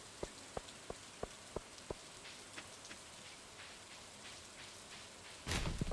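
Rain patters steadily in the Stardew Valley farming game, a soft continuous hiss broken by a series of short sharp clicks early on and a louder burst near the end.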